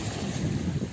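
Steady wind noise on a beach buffets the microphone, a continuous low rumble and rush with no breaks, loud and close.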